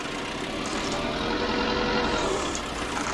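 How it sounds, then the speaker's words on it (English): A tractor engine drones steadily as the machine drives over snow, a continuous mid-low rumble at an even, moderate level with no talking. "This tractor not working well on snow."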